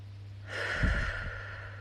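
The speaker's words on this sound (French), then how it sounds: "Fermez les yeux, laissez-vous guider, prendre 3 grandes respirations." A slow, deep breath taken during a calm guided meditation, one long soft airy inhale and exhale swelling in the middle and easing off, close and fairly quiet with no talking.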